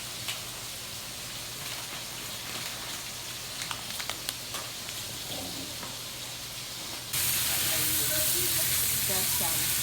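Celery, onions and turkey giblets (neck, gizzard, backbone) sauté in a pan for rice stuffing, a steady close sizzle with scattered scraping stirs, growing louder and brighter toward the end.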